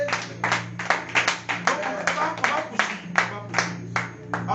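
A church congregation claps in rhythmic bursts to acclaim during a proclamation service, with many hands striking in loose time, close and fairly loud, over voices calling out.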